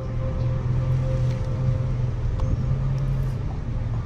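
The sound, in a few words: vehicle engine running in a horror video game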